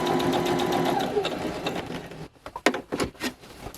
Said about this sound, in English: stitch right along the edge.